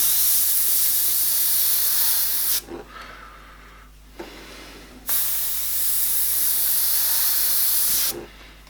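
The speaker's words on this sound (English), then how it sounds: "I've got a bit of a speckled thing going on with my airbrush." An airbrush spraying paint for skull and smoke artwork, giving loud, steady hissing bursts of compressed air. There are two long sprays separated by quieter pauses, and a short start of another at the end.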